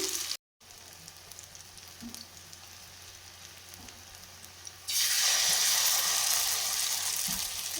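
Pumpkin flower pakoras frying in hot oil, a steady crackling sizzle that swells louder and brighter partway through as more battered pieces drop in, heard up close with no talk.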